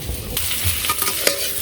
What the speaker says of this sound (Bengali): তো পেঁয়াজ আর মাছ ভাজা হয়ে গেছে